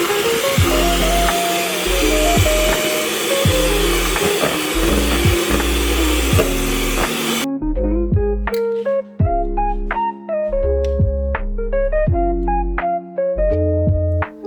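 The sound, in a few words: whisking cold cream with an electric mixer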